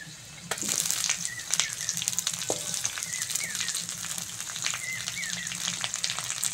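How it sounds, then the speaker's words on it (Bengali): Onion sizzles loudly in a pan with garlic already fried in hot oil, a dense crackling hiss broken by sharp spatters and scraping stirs, close and continuous without speech. "রসুনটা ভালো করে ভেজে নিয়েছি। এবার পেঁয়াজ দিয়ে দেবো।"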